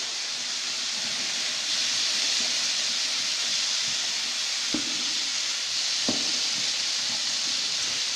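A pan of boiled egg noodles for a stir fry gives off a steady, fairly quiet hiss and sizzle, broken by two brief knocks of stirring.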